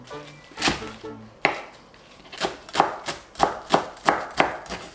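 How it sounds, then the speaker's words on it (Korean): Perilla leaves being minced with a knife on a cutting board, several sharp chops at first, then a steady run of rhythmic close knife strikes, loud and clear with no talking. "지금 깻잎도 몇 장 다져 넣어 볼게요"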